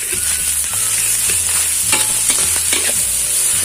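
Rice being stir-fried with grilled fermented pork (naem) in a pan, with a steady sizzle and repeated scraping and tapping of the spatula, loud and close, no voices.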